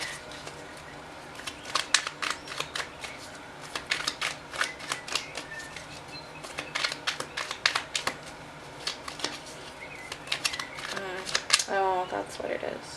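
Tarot cards shuffled by hand during a pick-a-card reading, giving quick papery riffles and soft snaps in irregular bursts while a voice talks over them.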